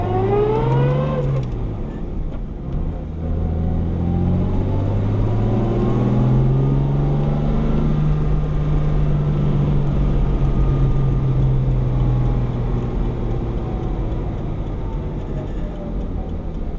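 A 1964 Jaguar XKE Coupe engine runs steadily while driving, a continuous near drone with a rising and falling pitch as it accelerates and shifts, with no talk over it.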